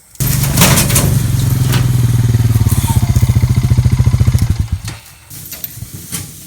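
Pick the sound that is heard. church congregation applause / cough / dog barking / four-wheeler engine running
four-wheeler engine running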